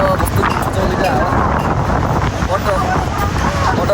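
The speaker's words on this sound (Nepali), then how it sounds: "कस्तो मिठो हावा चल्यो है" Strong wind blows steadily across the microphone on a trip to Manang, with a constant broadband roar for the whole stretch and voices faintly mixed beneath.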